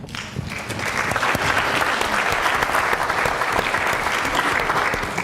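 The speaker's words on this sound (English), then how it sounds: "Give yourselves a hand clap." Dense, sustained applause from an audience at a talk on depression and suicide, rising within the first second and holding steady and loud throughout.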